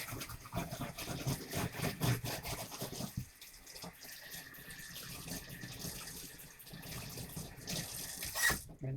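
A stained-glass piece is rinsed under running water after a soap scrub, a gushing, splashy flow that shifts and thins midway, then surges again with a brief clatter at the end, no voices.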